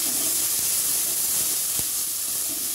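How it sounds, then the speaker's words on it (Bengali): Soaked chickpeas go into hot oil in a home kitchen pan, giving a steady close hiss and sizzle throughout, with a few faint clicks. "এবার আমি ভিজিয়ে রাখা ছোলাগুলো দিয়ে দেবো।"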